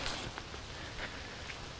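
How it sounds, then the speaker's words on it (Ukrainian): Rain falling on a wild lakeshore during a fishing trip, a soft steady hiss with a few brief patters, fairly quiet and constant with no voices. "Ждемо, ждемо поки дощ закінчиться"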